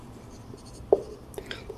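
Pen writing on paper while working a class 12 maths problem, a few short faint scratching strokes against a quiet background.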